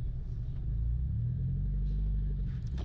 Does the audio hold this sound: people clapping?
no